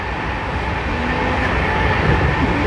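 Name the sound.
Amravati Express LHB train hauled by WAP4 locomotive at 130 km/h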